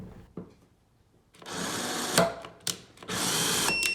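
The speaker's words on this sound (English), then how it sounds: "Run down the tool on the torque calibrator again." A Bosch ExactION power tool runs down on a torque calibrator in several whirring bursts separated by short pauses, close and clear, with small clicks between runs and no speech.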